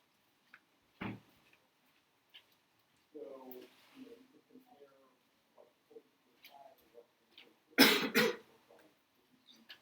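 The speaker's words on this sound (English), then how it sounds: "why are you coughing like that?" A person coughs in two sharp, loud bursts, one near the start and a stronger one later, with other people talking quietly in between.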